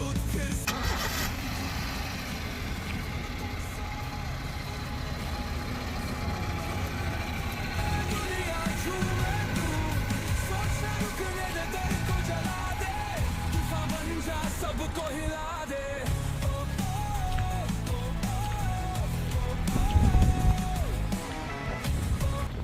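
A 2010 Honda City petrol car starting up and then idling, a close cranking catch followed by a steady engine hum with a slight rev near the end, no talking over it.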